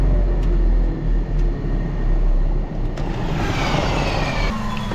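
A turboprop aircraft taxiing on the ground, a steady loud engine drone and propeller rumble heard from the cockpit, continuous throughout with a slight rise in hiss toward the end.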